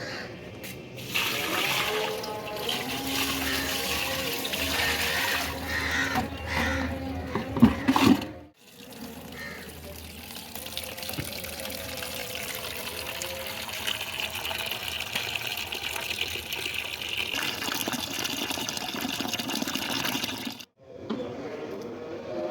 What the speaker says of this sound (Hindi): ये पानी गंदा, इसको गिरा देती हूँ पानी और लेती हूँ।